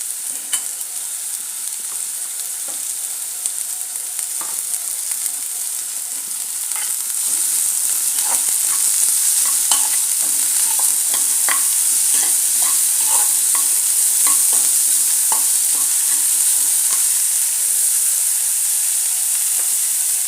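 Carrots stir-fry in a pan for momo filling, with a continuous bright sizzle that grows louder partway through and is dotted with frequent scraping and tapping stirs, heard up close without talk.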